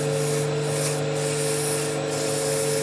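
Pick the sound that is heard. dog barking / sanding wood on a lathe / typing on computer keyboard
sanding wood on a lathe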